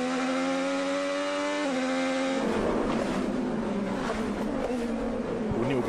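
An IndyCar race car accelerates on the Toronto street circuit, its engine whine holding a steady pitch before a louder, rougher roar of cars passing takes over, loud and continuous.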